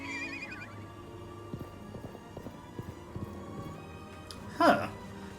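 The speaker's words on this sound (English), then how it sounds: "you'll see a horse" A horse in the video game Live A Live, with game music under a run of hoof clip-clops and then a sharp, loud whinny near the end.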